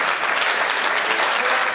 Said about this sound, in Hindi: बढ़ाओ ताली,